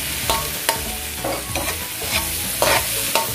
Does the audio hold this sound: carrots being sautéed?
yes